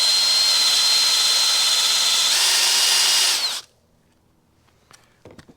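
A loud, steady high-pitched power-tool whine runs while a cloudy vintage motorcycle gauge lens is sanded with wet 2000-grit sandpaper, then cuts off abruptly, leaving near silence with a few faint clicks.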